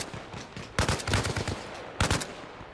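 Automatic gunfire in Arma Reforger rattles out in two loud, rapid bursts, a longer one followed by a shorter one after a brief pause.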